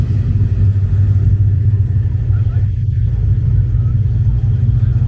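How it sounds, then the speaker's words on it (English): A Lotus Evora rolls in at an Arizona car show, its engine a steady, loud, close low rumble that carries through the whole stretch without a break. "Even got a Lotus Evora rolling in."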